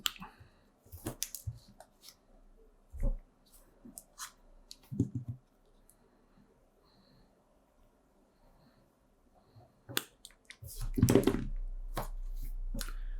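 Wire cutters snip the excess leads off freshly soldered wire connections: a few sharp, isolated clicks spaced apart by near silence, followed by louder handling noise at the end.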